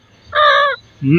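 A pet parrot mimics a crow with one harsh, nasal caw, followed by the start of a second lower call.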